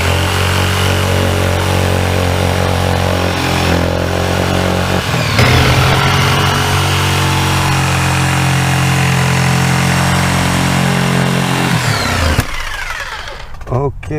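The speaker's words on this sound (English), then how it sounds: "I'm going to go ahead and cut this little piece with the jigsaw" Jigsaw cutting a small piece for a 12V switch panel mount, a loud steady buzzing cut running for about twelve seconds close by, then stopping abruptly.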